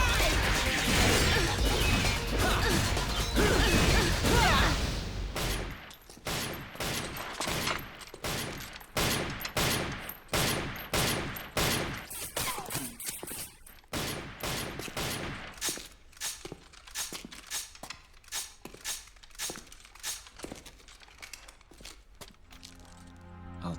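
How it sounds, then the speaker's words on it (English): Dense gunfire in a Devil May Cry game, with rapid repeated shots and bullets clashing mid-air, a loud burst at first then rhythmic volleys of cracks and impacts continuing steadily. "It's also really cool how you can cancel out her bullets with your own, just like in a cutscene."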